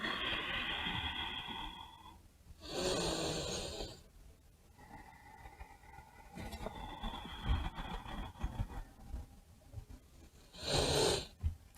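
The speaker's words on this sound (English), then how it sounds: "Take some nice deep breaths here." Slow, deep breaths during a yoga wide-legged downward dog: several long, airy inhales and exhales, close and fairly quiet, spaced out with pauses between them.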